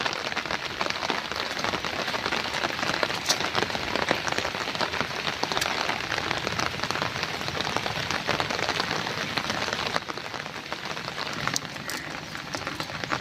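Steady, dense rain pours down in the Sundarbans across the whole stretch, a loud continuous hiss of drops hitting surfaces with no voices.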